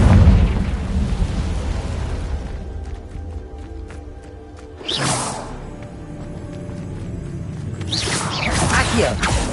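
The Confringo fire spell in Hogwarts Legacy bursts with a sudden whooshing explosion, then a second swelling blast follows, both loud over low rumbling ambience.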